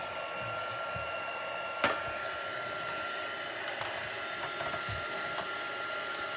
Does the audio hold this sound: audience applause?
no